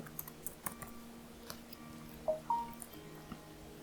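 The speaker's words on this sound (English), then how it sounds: "I was typing." Soft, steady computer keyboard typing: light, evenly paced keystrokes over a faint background hum, with a couple of slightly louder taps near the end and no speech.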